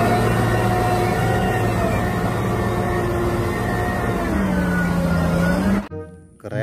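A toy cement mixer truck gives off a steady, close electronic whirring drone with a slowly gliding pitch, running continuously for several seconds before cutting off abruptly.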